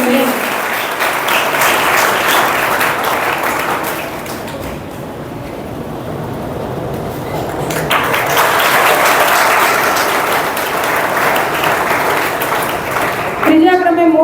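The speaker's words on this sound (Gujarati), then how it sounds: "તાળીઓ સાથે આપણે એમનો સન્માન આપતા ભૂલશું નહીં." Sustained applause from a large audience at a school Guru Purnima ceremony, honoring students as prize winners are announced. It is loud and continuous, eases off briefly midway, then swells again before fading.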